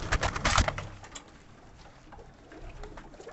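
Madrasi pigeons coo in a short, soft, throaty burst close by, followed by quieter rustling and faint calls.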